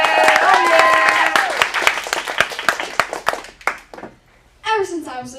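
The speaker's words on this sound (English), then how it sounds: "let's give a round of applause for our next stand-up comedian" A teen acting studio's script showcase in Phoenix, where an audience claps for a stand-up comedian. Dense, quick clapping comes with whooping voices, thins out and drops to near silence, then a voice speaks.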